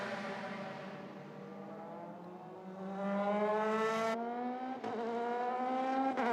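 A Euroformula Open single-seater race car laps the Barcelona circuit in 2018 qualifying, its loud, close engine note climbing steadily in pitch, with sharp upshifts breaking the whine twice near the end.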